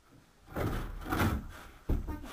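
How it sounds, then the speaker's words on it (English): A wooden panel is lifted with a dull creaking scrape, followed by a short thud near the end, close by and fairly quiet. "There's a trap door down here"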